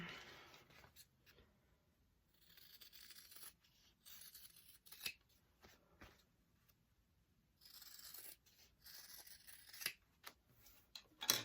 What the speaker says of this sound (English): I get my big scissors